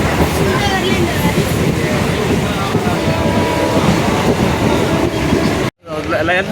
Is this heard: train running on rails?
yes